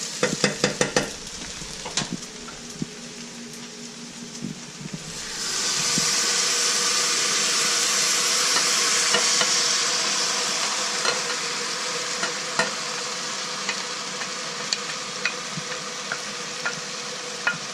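Onions, garlic and tomatoes sizzle in a pan while being stirred for Afghan mantu. Utensil clicks come first, then a loud burst of frying hiss as the tomatoes go in, which settles into a steady sizzle with scattered scrapes and no talk.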